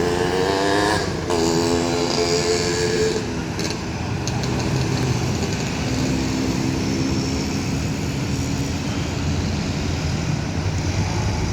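A Simpati Star nonstop bus rolls past the Lambaru roundabout in Aceh Besar at night, its engine a steady loud rumble with a brief horn-like tonal blast at the start, amid continuous traffic noise.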